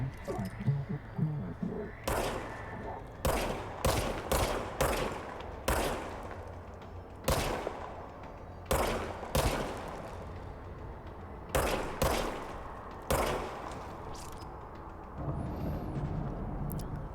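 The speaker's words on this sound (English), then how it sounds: "Now I have a gun. Okay. Aim and fire, pretty standard." Gunfire in the game Control: a string of sharp, loud single shots spaced irregularly, each with a short echoing tail, over a faint background hum.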